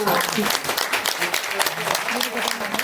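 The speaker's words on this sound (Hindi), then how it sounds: "एक बार जोरदार तालियां" Audience applause at a Kalyani award ceremony, a steady wash of hand claps that holds loud and close for the whole stretch with no pause.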